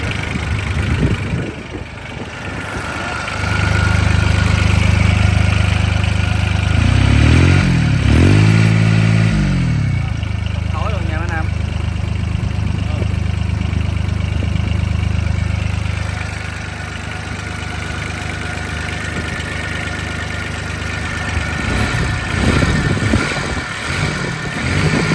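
The small diesel engine of a Honda Mighty-130D mini tiller idles with a steady low chug for a long stretch, rising briefly in pitch midway, then settling back to a quieter rumble.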